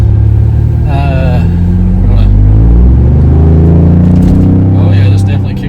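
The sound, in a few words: Ford Bronco driving with K&N intake upgrade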